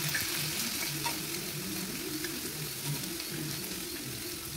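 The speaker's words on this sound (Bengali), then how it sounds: "আলুটা এদিক সেদিক ভালোভাবে নাড়াচাড়া করে ভেজে নিচ্ছি" Potatoes sizzle and crackle in hot oil while being stirred around the pan, giving a steady close frying hiss with soft scraping movements and no talking.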